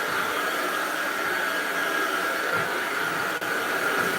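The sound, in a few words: vacuum cleaner running on the floor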